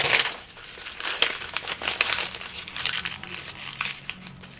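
Paper is crumpled and crinkled close by in steady, dense crackling bursts for several seconds, loud and alone.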